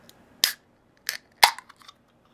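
A can of Red Stripe Jamaican lager is cracked open: a sharp metallic snap, a second pop, then a louder hissing burst with faint trailing clicks, close and with no one talking.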